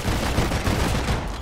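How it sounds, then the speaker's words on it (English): An assault rifle in the video game Deep Rock Galactic fires a rapid, sustained burst of loud, evenly spaced shots that run without a break for the whole stretch. "the assault rifle does sound and function like an assault rifle"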